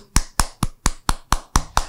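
Eight sharp, evenly spaced hand claps in quick succession, close and loud, with no talk between them.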